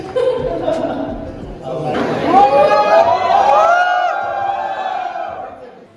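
A college fest crowd at BITS Pilani Hyderabad cheers loudly for visiting YouTubers, the noise swelling into sustained whoops and shouts with chatter and laughter mixed in.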